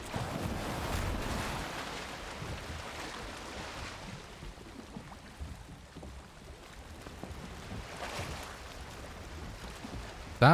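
A sailing boat moving over the waves in Valheim, a broad washing rush of surf and wind that swells early, eases, then builds again, steady and fairly soft with no talking.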